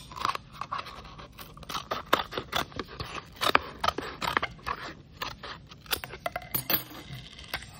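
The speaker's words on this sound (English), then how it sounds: "I'm gonna put my scissors into this little slice and I'm gonna cut in a circle and cut the bottom off" Scissors snip in a circle around a slice of material while building a homemade stethoscope. Close, crisp, irregular cuts come in quick succession, with small scraping and crunching, and no talk.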